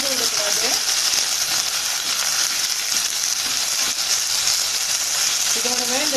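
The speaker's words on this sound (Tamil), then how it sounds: "சேர்த்து சின்ன வெங்காயத்தை நல்லா வதக்கி விட்டுக்கலாம்." Sliced small shallots sauté in hot oil in a pan for a shallot chutney, giving a steady, loud, broadband sizzle that fills the whole stretch, with a brief voice near the start and end.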